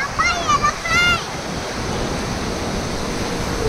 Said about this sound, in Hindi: विशाखापट्टनम आर के बीच है पानी।